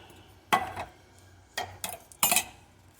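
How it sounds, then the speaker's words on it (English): A spoon stirs a Rotel tomato mixture in a pot, giving three or four separate clanking scrapes against the metal with short quiet gaps between. "we're going to just stir that in together like this"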